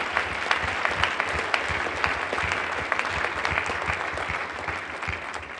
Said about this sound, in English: Now, you can keep clapping for Dino too, man.